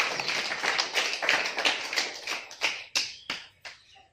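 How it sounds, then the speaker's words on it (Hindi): Applause from an audience at a community leadership training session, a burst of clapping that thins out into a few scattered, separate claps before stopping. "एक बार तालियां हो जाए।"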